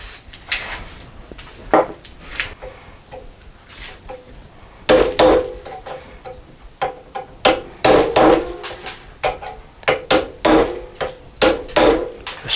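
Old rubber bushings being hammered out of a rear ATV shock absorber: repeated close metal-on-metal hammer blows in irregular bursts, sparse at first and then faster and louder, with no talking.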